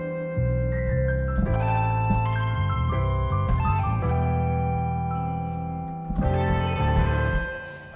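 Electric guitar in mono through a Valhalla Echo delay effect, playing a sad melodic line of sustained notes with trailing echoes that fade, then a fresh chord swells near the end before decaying.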